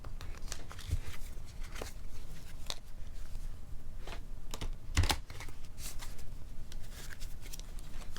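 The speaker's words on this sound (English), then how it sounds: "I'm going to go ahead and shuffle the deck some more" A tarot deck is shuffled before a Celtic Cross reading, giving soft, papery riffling and tapping bursts at irregular intervals, quiet and close with no speech over them.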